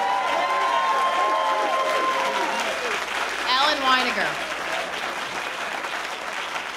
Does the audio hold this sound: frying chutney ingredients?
no